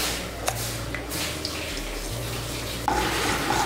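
Whole cumin, cracked cardamom, cloves and a piece of cinnamon tempering in hot oil, stirred briefly: a close, steady crackling sizzle with a few light spatula taps and a sharper scrape near the end, no talk.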